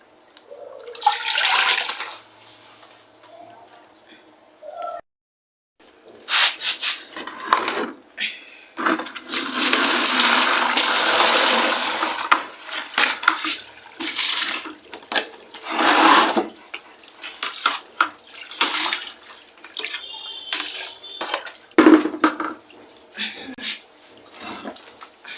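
Food being washed by hand in water in a pot in a Nigerian village kitchen, bursts of sloshing, swirling and splashing with pauses between, some clattering of the pot, fairly close and loud.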